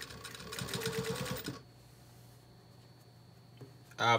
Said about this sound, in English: So I'm stitching right on the pocket.